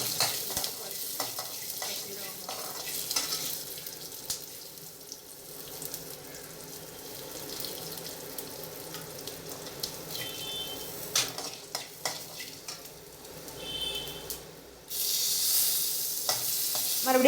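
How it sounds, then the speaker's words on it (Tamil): Coriander, dried red chillies, black pepper, cumin and curry leaves fry in oil in a pan, a continuous sizzle broken by stirring scrapes and knocks, with a louder burst of hissing near the end. "அதே எண்ணெயில் கொத்தமல்லி, வரமிளகாய், மிளகு, சீரகம் இதெல்லாம் போட்டு வறுத்துட்டு கருவேப்பிலையும் போட்டு நல்லா வதக்கிட்டு"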